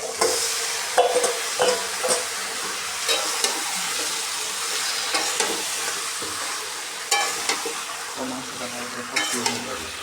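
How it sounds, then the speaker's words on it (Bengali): Marinated country chicken sizzles and fries in a pan in a village-style kitchen, a steady loud hiss broken by repeated scraping and clanking of a spatula stirring the meat, with no one talking. "এখন আমি মেখে রাখা মাংসটা দিয়ে দিব।"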